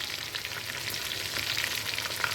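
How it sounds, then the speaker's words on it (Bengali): Chicken pieces fry in oil in a wok, making a steady, dense crackling sizzle with faint stirring scrapes. The frying is close and constant throughout, with no voices. "মাংসটাকে খুব ভালো করে ভেজে নিতে হবে আগে।"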